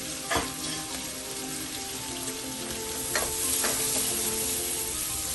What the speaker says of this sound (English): I'm going to add the habaneros also to fry at this point.